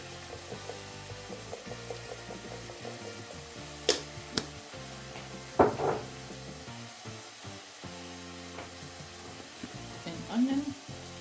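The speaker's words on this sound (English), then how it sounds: "We'll wait for the shrimp to cook." Shrimp and garlic fry in a pan with a soft, steady sizzle, broken by a few sharp clacks and scrapes of stirring against the pan, close by and fairly quiet.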